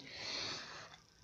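A person with a cold and cough gives a soft, wheezy sniff, followed by a brief sharp burst as a cough begins at the very end.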